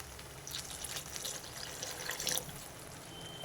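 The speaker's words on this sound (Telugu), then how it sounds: "ఇప్పుడు నేను మిక్సీ జార్ కడుక్కున్న వాటర్ పోస్తున్నా" Rinse water from a mixer jar is poured into a jackfruit seed curry, a soft steady trickle and splash that grows a little and then stops, with no voices over it.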